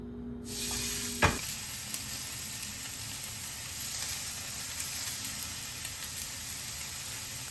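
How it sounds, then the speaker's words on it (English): T-bone steak sizzling in a hot pan, generously salted, a steady close hiss of frying fat with scattered crackles and pops and a sharp click near the start, no talking. "So this is a T-bone steak cooking up here"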